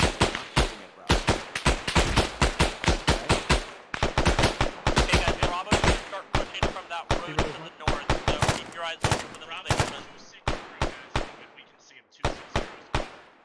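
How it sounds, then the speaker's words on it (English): Enemy gunfire in Arma 3, a loud, dense barrage of sharp rifle and automatic shots in rapid bursts with brief gaps, crackling close by throughout. "Well, they're shooting at us."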